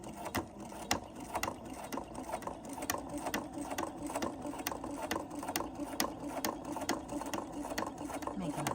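A sewing machine stitches a tote bag strap, working from the inside out on a lined bag, its steady rapid needle clatter running close and continuous the whole time with no voice over it.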